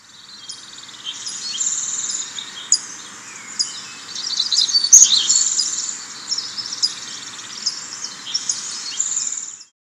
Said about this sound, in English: Now playing Forest from Ambient Sounds.